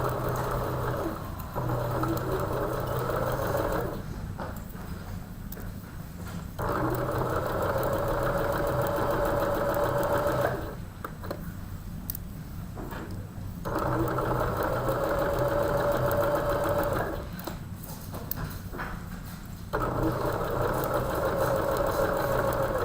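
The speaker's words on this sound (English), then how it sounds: "So I'm going to drop the pins in, and we're going to sew." A sewing machine stitches quilt pieces together at a retreat, running in long steady bursts of whirring with brief pauses between seams, close and fairly loud.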